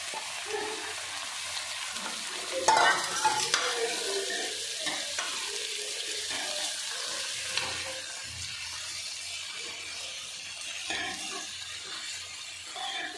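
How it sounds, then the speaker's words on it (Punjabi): Potatoes frying in oil with onions, a steady crackling sizzle that continues throughout, broken by scraping and clattering as a utensil stirs the pan close by, with no talking. "ਹੁਣ ਅਸੀਂ ਇਹਦੇ ਵਿੱਚ ਪਹਿਲਾਂ ਆਲੂਆਂ ਨੂੰ ਥੋੜੇ ਜਿਹਾ ਫਰਾਈ ਕਰਾਂਗੇ"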